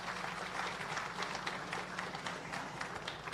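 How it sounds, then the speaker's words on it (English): An audience at the Jamaica Civil Service Long Service Awards 2023 ceremony applauds, a steady patter of moderate clapping with no speech over it. "Give her a round of applause for me, please."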